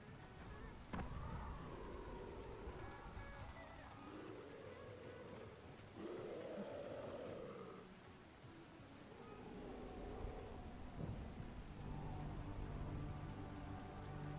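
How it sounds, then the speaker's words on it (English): Steady rain patters in the video game Dying Light, a constant faint wash of falling water with a few dull low rumbles, heard quietly under the game's ambient sounds. "Kind of a little bummy that it's raining."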